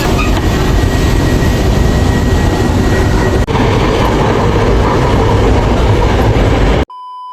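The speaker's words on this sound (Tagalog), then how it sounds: "Dito na kami sa LRT." An LRT light rail train rumbles loud and steady at close range for several seconds, a continuous roar of wheels and car noise that cuts off abruptly near the end.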